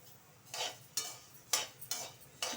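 Coriander seeds and cumin dry-roast in a pan, stirred in quick scraping strokes, five soft rustling sweeps in a steady rhythm, close and quiet.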